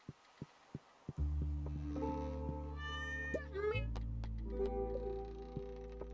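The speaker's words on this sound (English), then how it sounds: "This cat just meows at me and just gives me a hunk of cheese." A cat meows in the farming game Stardew Valley, giving a short series of clear rising and falling calls against soft game music, with a few light thumps at the start.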